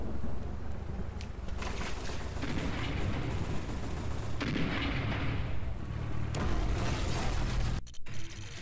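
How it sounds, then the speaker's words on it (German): Battle tank in Command and Conquer Remastered firing with an old artillery-style sound: dense, loud booming cannon blasts rolling on for several seconds with no talk, then cutting off abruptly. "Wieder der Kampfpanzer mit dem Sound einer alten Artillerie."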